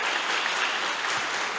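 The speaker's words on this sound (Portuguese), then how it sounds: "Vale uma salva de palmas para o Senhor Jesus aí?" A church congregation clapping together, dense continuous applause filling the whole moment, close and fairly loud, with no voices standing out.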